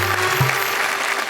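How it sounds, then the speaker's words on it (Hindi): Brief burst of audience clapping at a Hindi poetry recital, a dense round of applause filling the hall for just over a second. "जरा तालियां बजाइए"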